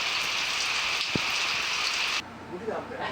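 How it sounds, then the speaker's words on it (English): Steady rain falls at night around a camping spot at a rest area in Japan during a cycle tour, a dense even hiss that drops abruptly softer near the end, with one brief low thump. "before darkness fell and the rain began"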